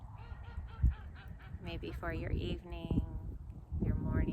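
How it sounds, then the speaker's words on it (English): Geese or ducks honk and quack repeatedly outdoors under a woman's calm spoken meditation, the calls fairly clear and overlapping her voice. "You can hear the ducks quacking in the background."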